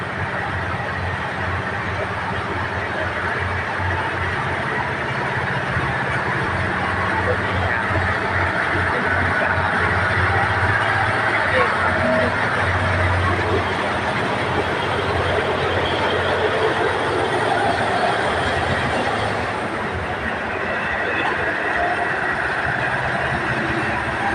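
Kiha 183 diesel train pulling out from platform 4 on a special excursion service to Lopburi: a steady, loud rumble of engine and rolling wheels with faint clickety-clack, continuous throughout.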